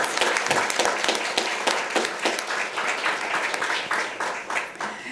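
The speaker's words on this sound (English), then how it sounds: "Let's give her a round of applause." Audience at a school board meeting gives a round of applause, a close, uneven patter of individual claps that gradually thins out.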